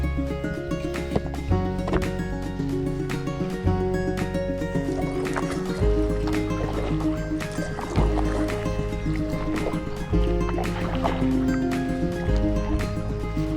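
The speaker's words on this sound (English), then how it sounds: "Right, time to paddle back." Paddle strokes push a Riber 420 drop stitch kayak along Selby Canal, each dip a rhythmic splash and gurgle near at hand, recurring every couple of seconds over a steady droning backdrop.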